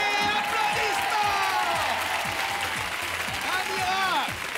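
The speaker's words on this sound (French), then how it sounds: "Oui, applaudissements." A TV magic show audience gives loud, sustained applause with cheering in a studio, while voices talk and exclaim over the clapping throughout.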